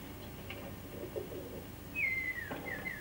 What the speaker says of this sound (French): dans le ciel apparaissent par groupe les pigeons remontant vers la Hollande et la Belgique